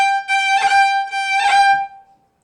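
Bowed fiddle roll where the bow speeds up mid-note, producing a little chirp: two ornamented bursts within a sustained, bright tone that fades out at the end, close and solo.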